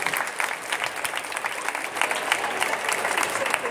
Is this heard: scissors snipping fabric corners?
no